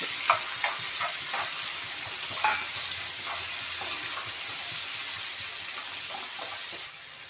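Finely chopped onions and green chillies fry in a pan for an egg and fenugreek leaf curry, giving a continuous bright sizzle with faint stirring clicks.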